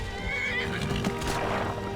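A horse in Skyrim lets out a loud, shrill whinny up close, with hoof clops and ambient noise beneath it.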